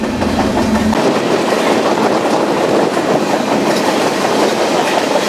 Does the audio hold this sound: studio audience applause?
no